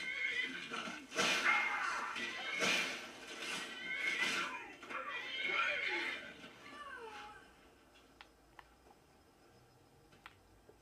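A horse in a Skyrim-style fantasy video game neighs and whinnies in distress while under attack, loud bursts over combat noise during the first seven seconds, then fading to quieter game sounds with faint ticks.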